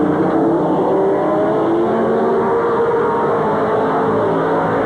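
Stock cars racing around Midvale Speedway in 1986 on the last lap: a loud, continuous roar of many engines droning together, steady and close, with no breaks.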